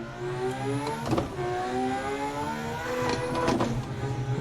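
Sim-racing car engine blipped through a rev-match downshift, pitch sweeping up and falling back in two sharp surges with rising turbo whine, loud and close with no talk.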